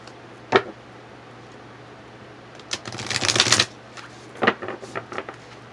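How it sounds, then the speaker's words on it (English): Tarot cards being shuffled in short bursts: a single flick, a longer riffling run, then several lighter snaps, close and fairly quiet over a low hum. "Let me give it one more shuffle."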